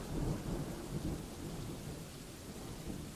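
Steady rain with low rumbling thunder from the video game Dwarf Fortress, a continuous wash of rainfall and distant rolling thunder with no voices.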